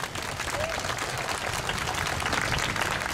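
An audience at a rally event bursts into steady applause, many hands clapping together throughout, with some crowd voices faintly underneath.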